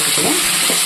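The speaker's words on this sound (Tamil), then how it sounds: "உப்பு சேர்த்து நல்லா தக்காளியை வதக்கிக்கிடுவோம்" Tomatoes with salt sauté in hot oil with steady, loud sizzling and crackling, with faint stirring scrapes underneath.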